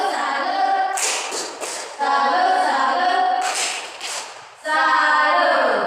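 A classroom of children doing a rhythmic salute clap, with bursts of patterned hand claps and chanting voices in several phrases, loud and close, separated by short pauses.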